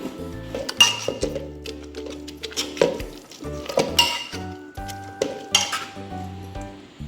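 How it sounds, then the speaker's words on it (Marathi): Taro leaf curry is mashed in a pot after gram flour is added, with repeated scraping and knocking of a utensil against the metal pot, clinks ringing out over a soft simmering sizzle. "चण्याच्या डाळीचं पीठ म्हणजे बेसन घालून घोटूया म्हणजे ते मिळून येईल"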